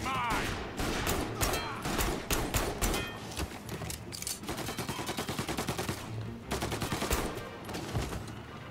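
Rapid bursts of gunfire from a shootout in Mafia Definitive Edition, dense overlapping shots and automatic fire crackling almost continuously, loud and close, with brief lulls between volleys.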